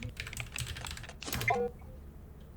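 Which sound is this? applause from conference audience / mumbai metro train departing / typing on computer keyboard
typing on computer keyboard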